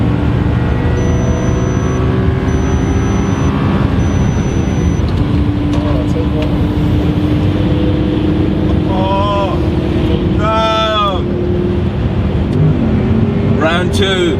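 A BMW M140 launches hard in a drag race, its engine roaring under a crowd's chatter before the gear change is missed; sharp revving bursts follow near the end, with people talking throughout.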